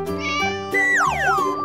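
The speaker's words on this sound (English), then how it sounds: "Cat." A cat meows loudly and close, with a drawn-out, wavering cry that slides downward in pitch, set among an animated animal-painting scene with no talking.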